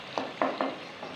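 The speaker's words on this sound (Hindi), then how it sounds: "मज़ीद इसको थोड़ा सा हम पका लेंगे, फ्राई कर लेंगे" Chicken karahi sizzles in a wok, with a few quick stirring scrapes against the metal over a soft frying hiss.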